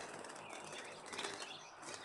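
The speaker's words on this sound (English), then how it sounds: "these birds here are healthy birds" Birds trapped inside a clear plastic bag flap their wings in quick, faint bursts, producing a soft rustling flutter with light plastic crinkle throughout.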